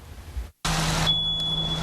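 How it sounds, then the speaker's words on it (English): A smoke alarm emits a steady, piercing high tone over a low electrical hum after a brief gap of silence, loud and close. "8 years ago, a smoke alarm warned the Hamilton family of Bryan at 2 a.m."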